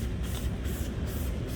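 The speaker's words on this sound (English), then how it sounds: "Just spray down the whole car with it." Isopropyl alcohol and distilled water mix sprayed onto the paint of a 2021 GMC Duramax truck, a close, continuous hissing spray that pulses slightly in strength, with no talking.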